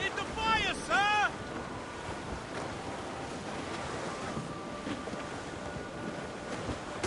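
In Assassin's Creed Rogue, a sailing ship moves through the wind with steady rushing wind and water noise throughout, after a short shouted voice at the start.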